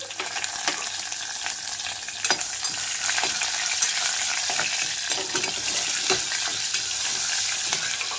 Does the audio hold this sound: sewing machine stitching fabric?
no